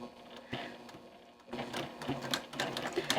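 A sewing machine stitches a quilt block, running in short, quiet bursts of rapid stitching with brief pauses between them.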